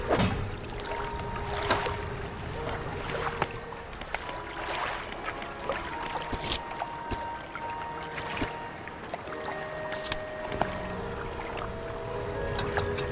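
A boat engine hums steadily in the fishing video game Dredge, a low continuous drone under soft water lapping and scattered game chimes, with no talking.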